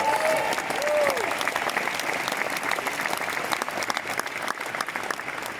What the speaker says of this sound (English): Major round of applause for the founders, please, for the job.